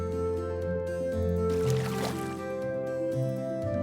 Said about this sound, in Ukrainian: А формочками можна зачерпувати воду